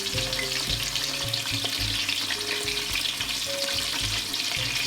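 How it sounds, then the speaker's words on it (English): Pierced Italian sausage cooks in a pot for sauce, a steady close sizzle and bubbling hiss with low, rhythmic popping underneath, heard alone without talk. "we flipped our sausage and we pierced the other side as well, and we're going to continue to braise it"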